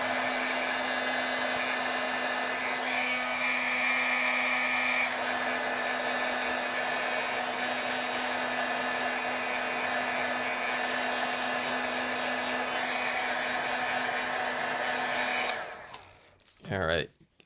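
A heat tool blows hot air over freshly stamped ink to set it, a loud, steady whirring roar lasting about fifteen seconds before it cuts off with a brief sputter.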